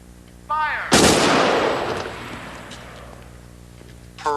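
A single loud firing-squad rifle volley cracks out at an execution, followed by a long, fading reverberant tail; brief voice fragments sit just before and at the very end.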